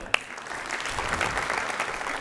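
A club audience at an Armenian evening show applauds: a dense, steady burst of clapping from a crowd, fairly close and sustained, after a single sharp clap at the start.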